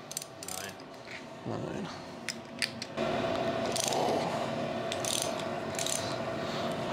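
Torque wrench ratcheting on the bolts of a turbocharged LS-engined Camaro, with quick clicking bursts that become more continuous, while a voice counts nearby.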